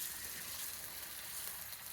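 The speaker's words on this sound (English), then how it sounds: "that's going to fry off just nicely" Soft, steady sizzling of mince frying in a pan over high heat, a continuous crackling hiss with no talking.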